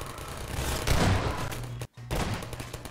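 Soldiers open fire in Half-Life 2, a dense, continuous fusillade of gunfire with heavy low-end thumps filling the clip, briefly cut by a short silent gap before the shooting resumes just as loud.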